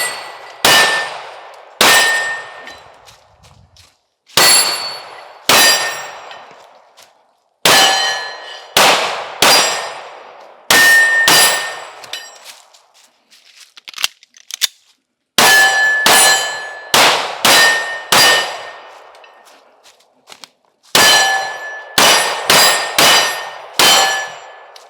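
Gunshots ring off steel shooting targets on an outdoor range in a swamp, a long series of sharp metallic clangs that come in quick clusters separated by short pauses, each with a bright ringing decay, loud and close, with no talking.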